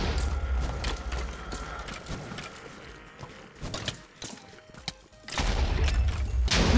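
Rapid bursts of game gunfire with booming explosive hits, mechanical clatter throughout, loud and dense, ending in a heavy rumbling blast.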